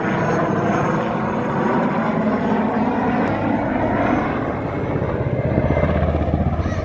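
A helicopter performing aerobatics at an air show gives a steady, loud rotor and engine drone with rhythmic blade chop throughout, without talking.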